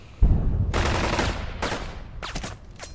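Gunfire in the video game Burden of Command: a heavy initial shot followed by sustained bursts of rifle and machine-gun fire, with a couple of separate cracks near the end.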